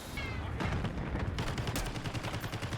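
Rapid gunfire fired at doors in the video game Black Ops 6, a dense, loud stream of shots with impacts and clatter running throughout, with no talk over it.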